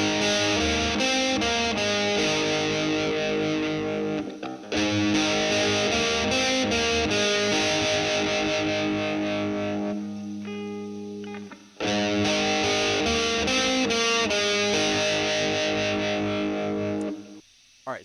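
A distorted electric guitar plays an ascending and descending riff, with loud, sustained effected notes in repeated phrases and brief pauses between them.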